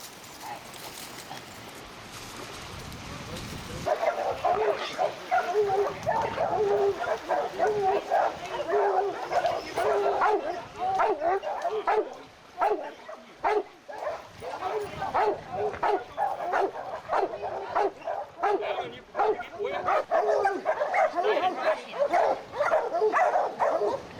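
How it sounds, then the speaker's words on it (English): A bulldog and hog dogs bark steadily and excitedly while hunting a hog outdoors, a dense run of repeated barks and yips with occasional human voices mixed in. "we're gonna turn the dogs out and see if we can't find this hog"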